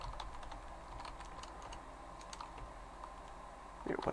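Continuous typing on a computer keyboard during a C++ programming lecture, a steady patter of quiet key clicks with brief gaps, picked up at close range against a faint room hum.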